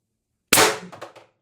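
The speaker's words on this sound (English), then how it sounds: "4 gram ammo, 800 PSI. Shot 1." A Beeman BP50 air pistol at 800 PSI fires a single 12.7 mm 1.2 g nylon bearing: one sharp, loud crack out of silence, followed by a brief rattling decay.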